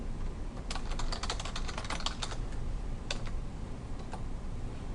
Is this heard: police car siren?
no